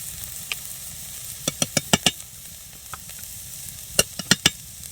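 Garden vegetables frying lightly in a pan make a soft sizzle under sharp, clustered clicks and taps of a spatula stirring them, with quiet pauses between bursts.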